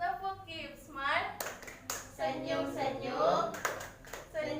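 Children clap in the Tepuk Keep Smile clapping game during a classroom lesson, a few sharp hand claps landing between chanted, sung-out voices of a teacher and pupils.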